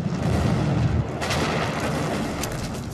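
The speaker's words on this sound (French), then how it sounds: "Elle indique une explosion sous-marine." A powerful underwater explosion at sea gives a loud, deep booming rumble that swells and rolls on for several seconds, with no speech over it.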